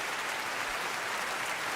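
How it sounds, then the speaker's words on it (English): A live studio audience claps together in a brief, dense burst of applause, steady and fairly loud for under two seconds, with no talking over it. "Let's get the hand claps back."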